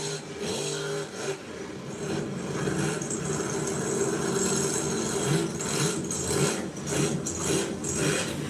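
A Toyota truck with an aggressive cam idles and revs at a mud-bog event, a loud, lumpy, choppy engine note that pulses unevenly throughout without talk.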